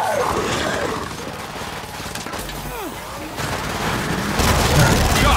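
Gunfire in the video game Gears 5 crackles in dense, rapid bursts with deeper booms mixed in, fairly loud and continuous, with in-game voices shouting over the fighting.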